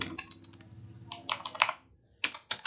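Keys clatter on a computer keyboard in short quick bursts with brief pauses between, close and fairly quiet.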